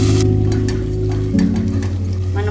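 Ground spice paste with onion and green chillies tipped into a hot pressure cooker for simple pulao, giving a loud, steady frying sizzle that surges briefly midway, with no talking.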